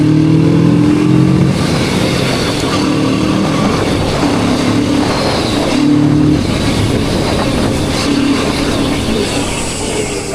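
Busy road traffic streams past a Kawasaki Z650 motorbike on the route from Siliguri to Phuntsholing, Bhutan: a continuous loud wash of engines, with several vehicles revving and droning by close at hand.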